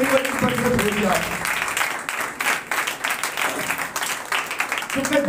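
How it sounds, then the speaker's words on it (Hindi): A church congregation applauds loudly during a sermon, a dense sustained wash of clapping that runs throughout, with voices mixed in at the start and end. "उसके लिए जोरदार ताली बजाओ।"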